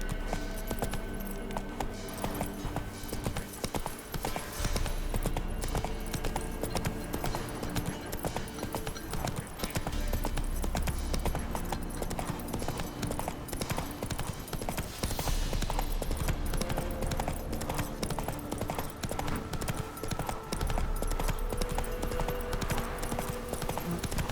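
Horse hooves gallop in a steady, fast clip-clop rhythm through The Witcher 3: Wild Hunt's Velen region, loud and continuous throughout, with faint game ambience beneath.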